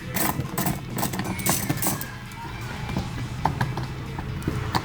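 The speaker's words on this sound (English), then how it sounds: "we're going to use our 8mm socket wrench and just pop that off" An 8mm socket wrench loosening a bolt on a 2007-2014 Ford F-150 towing mirror, giving close, faint clicking and scraping mechanical sounds over steady background noise.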